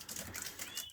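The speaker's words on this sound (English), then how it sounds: "there's that's a new one just flying up, lightly variegated." A lightly variegated hen bird flutters up from a perch in a winter birdroom, a quick burst of soft wing flaps amid faint ambient chirps and rustling.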